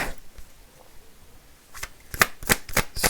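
Lumina Tarot cards being shuffled up close, starting quiet and building into a few sharp riffling bursts toward the end, with no voices.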